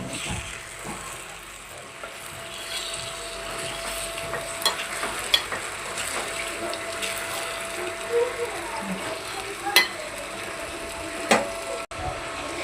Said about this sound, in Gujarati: મારું શાક ગરમ થઈ ગયું છે. એ છે પનીર ભુરજી.